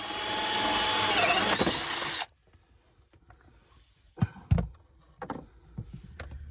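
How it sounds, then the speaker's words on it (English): A power drill whirs loudly for a couple of seconds while drilling holes, then stops, followed by scattered knocks and clunks of handling. "I'm going to draw my circles and then drill my holes"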